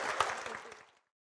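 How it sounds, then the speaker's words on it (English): Brief round of applause from a conference audience at a traffic technology forum, a dense patter of clapping that fades out within about a second, leaving silence. "big round of applause, please"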